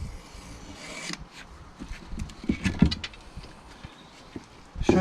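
A Stanley blade scrapes and slices insulation off thick copper cable, producing irregular rasping strokes and small knocks, close and moderately loud with no talk.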